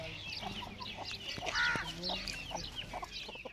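Chicks and chickens cluck and peep in a busy overlapping chorus, close and fairly loud, with short calls scattered throughout.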